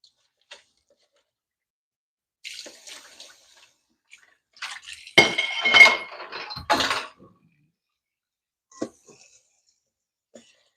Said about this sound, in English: I hate washing dishes,